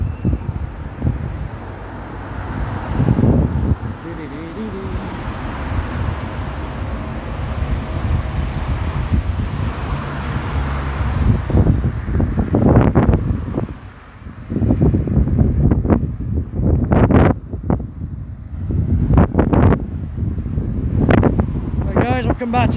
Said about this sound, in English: getting a bit windy here and noisy with the road traffic